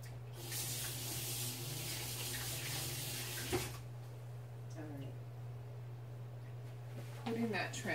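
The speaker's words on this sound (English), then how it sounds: "Putting that transfer into my water" A chalk transfer is dipped into water, with a running-water wash and splashing for a few seconds that then fades under a steady low hum, a few faint knocks following.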